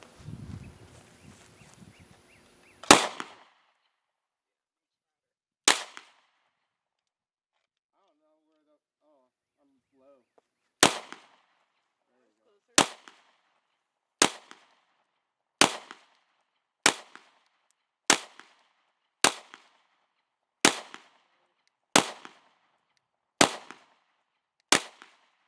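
Springfield XD9 Mod 2 pistol fired at a target outdoors: about a dozen sharp, loud shots, the first few widely spaced, then a steady series at roughly one-second intervals, with brief noise before the first shot.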